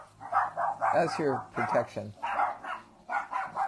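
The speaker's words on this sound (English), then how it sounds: "Crazy dogs." Dogs bark excitedly at someone at a gate, sharp repeated yaps mixed in with a person talking over them throughout.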